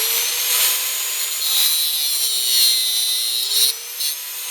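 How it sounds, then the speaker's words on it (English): A 4-inch angle grinder fitted with a small cutoff blade cuts down ice screws for motorcycle tires in snow, making a loud, continuous high-pitched whine and grind close up that wavers slightly in pitch without pause. "I got a little cutoff blade on the 4-inch grinder"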